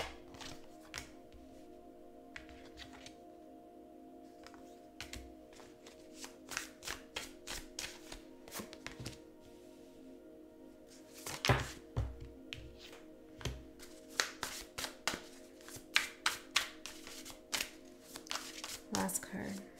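A deck of tarot cards is shuffled by hand in bursts of quick, crisp riffling taps and soft slaps, close and fairly loud over a steady low background hum of music.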